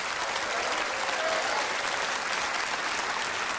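Steady, dense audience applause for Dries Roelvink in a Dutch television variety show studio, loud and continuous throughout with no voices breaking through.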